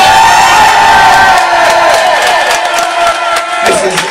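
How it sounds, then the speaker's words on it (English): A festival crowd cheers, whoops and claps loudly after a thank-you on stage, a dense roar of voices with scattered sharp claps that eases slightly toward the end. "Round of applause for Dave."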